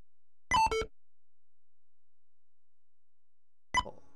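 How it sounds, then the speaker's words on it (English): Quick electronic computer beeps while installing Quake in DOSBox: a rapid cluster of chirpy tones, then silence, then another short beep burst near the end. "Listen to all the beeps."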